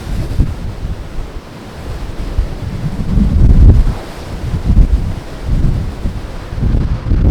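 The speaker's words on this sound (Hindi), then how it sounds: "ये इतना आसान नहीं है क्योंकि यह बहुत तेज रफ्तार हवा चल रहा" Strong wind buffets the microphone on a ship's top deck during a rough-sea passage from Kolkata to the Andamans, with heavy low rumbling gusts and surging waves rising and falling in loud irregular swells.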